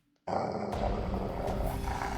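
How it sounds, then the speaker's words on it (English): Beast growl sound effect from the visual novel game Cupid Parasite: after a brief silence a deep rumbling growl starts abruptly and continues low and steady, alone. "In that moment, we heard a growl of a beast from the darkness."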